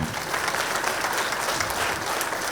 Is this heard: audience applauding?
yes